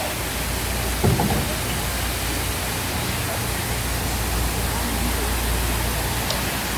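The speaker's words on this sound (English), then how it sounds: "This waterfall here to your right, it's a famous waterfall" Steady broadband rush of a famous waterfall at the Polynesian Cultural Center in Hawaii, a constant even roar filling the scene, with a brief faint knock near the start.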